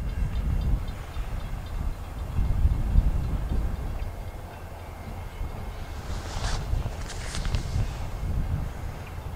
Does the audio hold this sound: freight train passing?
yes